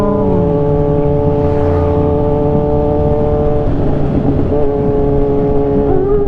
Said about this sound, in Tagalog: ganda ng mga motor nila eh